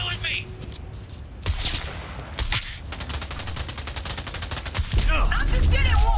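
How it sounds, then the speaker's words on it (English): Heavy gunfire in the video game Cyberpunk 2077: dense, continuous bursts of rapid automatic shots with sharp cracks, loud and close, with background voices mixed in. "Under heavy fire!"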